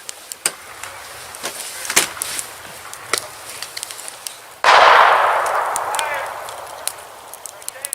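Teenagers fire gunshots near a snowy campsite: sharp, scattered cracks and pops at uneven intervals, then a sudden loud rushing burst that slowly fades.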